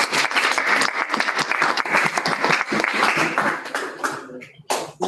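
Audience applause at an engineering and management conference, a burst of brisk, close clapping from a crowd that thins out and fades near the end, followed by a few scattered claps.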